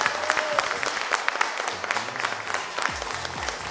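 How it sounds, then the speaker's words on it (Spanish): A studio audience at the Argentine TV game show El Precio Justo breaks into loud, steady applause with a few voices calling out over the clapping. "Aplauso para Márgara."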